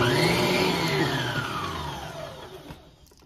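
An electric mixer runs on low speed stirring bread dough, a steady whirring motor drone close by that gradually softens and winds down toward the end.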